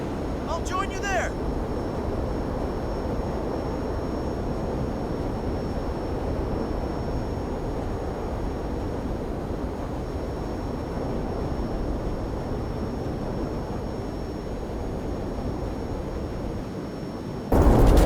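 An airplane's engine drones steadily and loudly inside a video game, a continuous roar lasting throughout with brief louder bursts at the very start and end.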